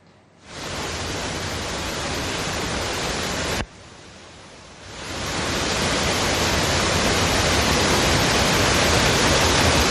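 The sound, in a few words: waterfall flowing very heavily, mixed with mud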